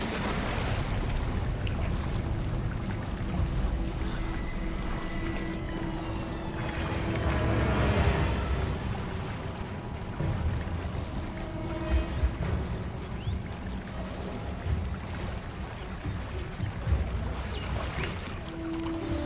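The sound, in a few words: bubbling water in Hogwarts Legacy video game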